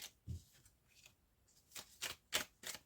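Tarot cards are shuffled for a reading in a quiet room, giving a handful of soft, crisp riffling bursts spaced irregularly and fairly faint.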